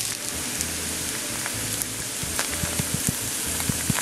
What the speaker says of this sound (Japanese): まずここで大切なのはエリンギの表面にしっかりと焼き色をつけることですね